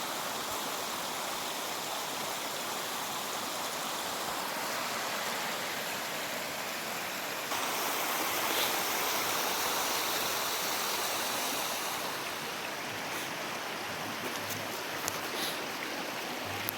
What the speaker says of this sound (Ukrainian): Отак буркут тече.